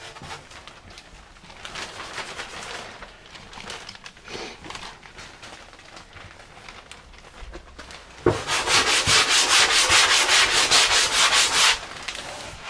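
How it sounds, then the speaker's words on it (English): A drywall sanding sponge rubs back and forth in rapid, rhythmic strokes, quiet and scratchy at first, then a loud, dense burst of vigorous scrubbing near the end. "What I like doing now is taking a sponge, a sanding sponge."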